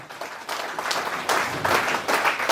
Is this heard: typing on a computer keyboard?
no